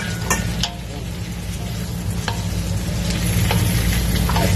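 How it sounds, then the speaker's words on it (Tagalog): Pinakbet vegetables with bitter melon and okra sizzling in a pan while being stirred, a close, loud steady frying hiss with intermittent scrapes and clatters of the spatula. "Maluin lang natin para maluto."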